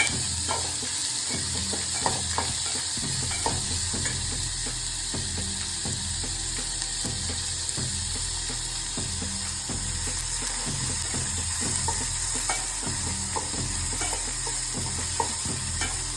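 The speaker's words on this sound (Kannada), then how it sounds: "ಇನ್ನೊಂದು ಸ್ವಲ್ಪ ಫ್ರೈ ಆಗಬೇಕು" Bitter gourd frying in a pan and stirred continuously, a steady close sizzle with regular scraping strokes of the spatula throughout, no voices.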